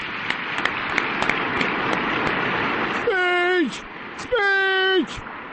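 Clapping from a small audience in a radio talk-show studio gives a dense, steady patter for about three seconds before voices break in.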